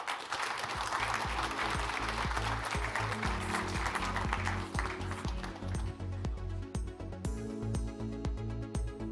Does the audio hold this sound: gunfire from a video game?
no